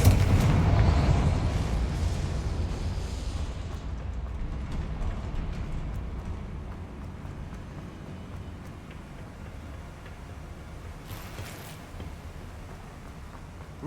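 Confringo blasting spell explosion in a Harry Potter style game: a loud booming burst at the start that trails off into a long rumbling roar, slowly fading over many seconds.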